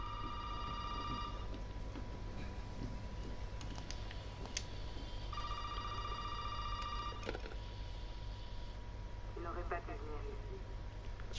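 In the video game Resident Evil 7, an old telephone rings in two bursts with a pause between them, set against a steady low background hum, clicks and game ambience.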